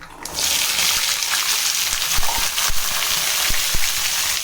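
Small shallots and garlic tipped into hot oil after mustard seeds have spluttered, a sudden loud hiss that settles into steady close sizzling with a few pops and clinks, no voices.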